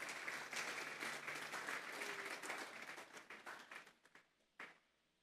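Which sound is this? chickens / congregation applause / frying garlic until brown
congregation applause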